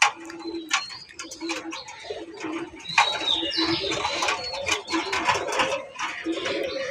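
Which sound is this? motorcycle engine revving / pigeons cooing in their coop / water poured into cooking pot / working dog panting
pigeons cooing in their coop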